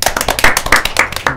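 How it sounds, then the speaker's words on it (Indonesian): A few people clap their hands at a business talk show with young entrepreneurs in Malang, a quick, close, uneven burst of sharp claps lasting just over a second. "Tepuk tangan."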